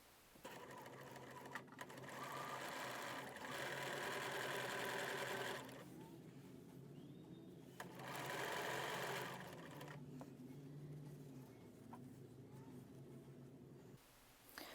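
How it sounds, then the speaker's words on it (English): A sewing machine stitches a quilt block seam in two bursts of rapid, even needle chatter, with quieter pauses and handling rustle between them, moderately close. "I am holding my thread tail and sewing straight down this seam"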